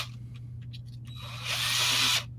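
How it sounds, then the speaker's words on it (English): Power drill with a 7/64 bit boring holes, a short burst of motor whine rising loud near the end after some faint handling clicks over a low steady hum. "I'm going to drill both of these"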